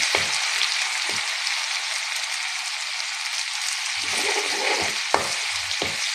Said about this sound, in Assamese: আদা নহৰুকণ দি তাতে অলপ সময় এনেদৰে ভাজিম।